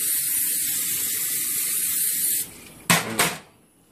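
Cooking oil sizzles and hisses in a hot pan for a couple of seconds, then two short, sharp bursts from a spray can sound close by before the sizzle fades to quiet.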